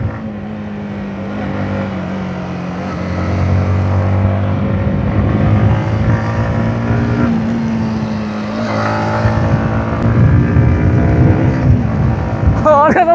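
A motorcycle, a Honda CRF250L or Yamaha MT15, rides along with a loud engine drone that rises and falls through gear changes and revs, building in intensity over the ride.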